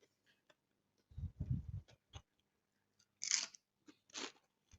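Crisp almond briouats wrapped in phyllo being bitten and chewed, a burst of crunchy bites followed by a few sharp crackles and two brighter snaps, close and loud against near silence.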